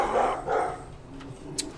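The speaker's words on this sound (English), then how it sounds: "Apparently, the dogs heard something." Dogs barking in a short burst of two or three barks, somewhat distant and muffled, followed by quieter noise.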